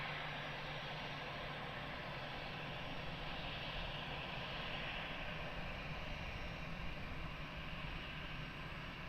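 A plane takes off from runway 20 at Lisbon Airport, heard from a distance as a faint, steady jet engine roar with a broad hiss that holds evenly throughout, no talking.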